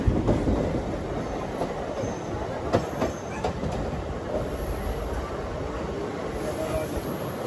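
A Rajahmundry to Visakhapatnam MEMU train runs past Anaparthi with a steady rolling rumble, occasional sharp wheel clicks and light squeals, heard from inside the carriage.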